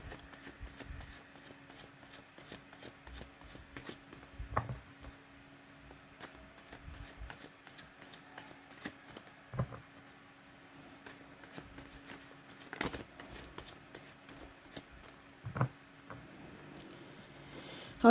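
Steady close-up shuffling of tarot cards, a continuous papery riffle broken by occasional sharper taps as the deck is handled, quiet and without speech.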